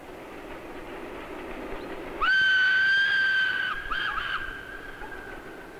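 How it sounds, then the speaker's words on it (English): A steady train rumble through the Munster Valley, with a loud, sustained horn-like whistle tone that starts suddenly, wavers briefly, then holds on at a lower level. "on a train rolling through the Munster Valley"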